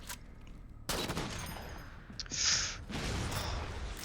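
Gunfire in the Halo video game, Spartan Ops on Legendary, with a sharp sniper-rifle shot followed by sustained loud bursts and a high whine, close and booming.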